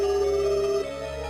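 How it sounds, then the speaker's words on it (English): A telephone rings in the Silent Hill Play Novel game for Game Boy Advance, a steady electronic ring tone that cuts off partway through, leaving quiet background hum. "The phone's ringing. The mechanical electrical sound repeats over and over."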